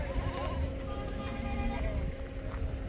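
A goat bleats at a goat farm while being loaded onto a cargo vehicle for transport, the calls mixed with nearby voices and busy, close handling noise.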